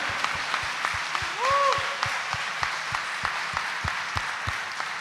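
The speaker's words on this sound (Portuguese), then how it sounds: "uma salva de palmas para Ele" A church congregation claps in rhythmic unison at Sunday Mass, steady evenly spaced claps over a wash of crowd sound, with a brief voice rising in the middle.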